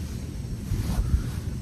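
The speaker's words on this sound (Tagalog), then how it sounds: "Lakas ng hangin." Strong wind on Mount Banoy, Batangas City, buffeting the microphone in a low, continuous rumble, with gusts swelling and fading over a short stretch.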